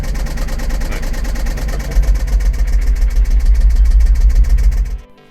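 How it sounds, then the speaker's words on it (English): A Jaguar engine with sugar in its fuel tank idles loudly nearby with a deep, rumbling exhaust note and a rapid, regular clacking ticking through it, then cuts off abruptly at the end. "enjoying some of these bass notes in between all the clacking of the engine"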